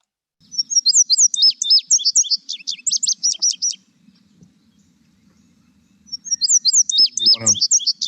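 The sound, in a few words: indigo bunting song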